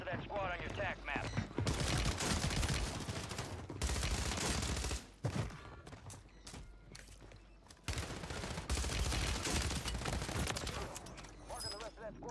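Rapid gunfire rattles through a Call of Duty Warzone match, dense automatic bursts and blasts in loud sustained stretches with brief lulls, mixed with game effects and a player's voice over the action.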